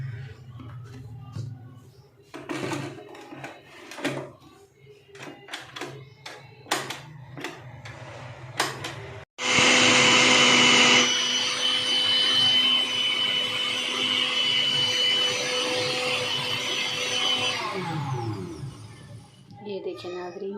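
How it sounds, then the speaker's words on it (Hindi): An electric blender whirs loudly and steadily for several seconds while blending peach juice with salt, following a stretch of talking and kitchen clatter, then winds down. "इसको ब्लेंड करना है।"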